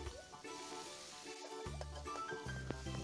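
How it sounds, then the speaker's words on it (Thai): Sliced pork belly sizzles and crackles steadily in a hot pan while being stir-fried for a Thai basil dish, with clinks of a spatula against the pan throughout and no talk. "จากนั้นก็ใส่3ชั้นสไลด์ลงไปเลยครับ"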